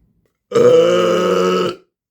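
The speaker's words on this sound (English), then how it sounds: "That was just a normal burp." A single long, deep burp, loud and close, lasting over a second with nothing else around it.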